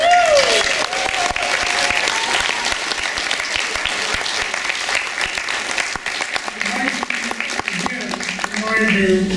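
Sustained audience applause at a Hawaiian dinner show, a dense steady wash of clapping from a large crowd that holds strong for the whole stretch, with faint voices and cheers mixed in.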